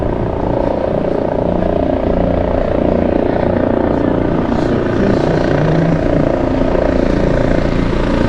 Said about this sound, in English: Helicopter you can hear is the GPH